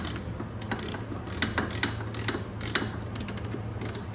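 Socket wrench ratcheting rapidly as it tightens a 15 mm bolt on a Yugo rear brake, a steady run of close, crisp metallic clicks under a low mechanical hum.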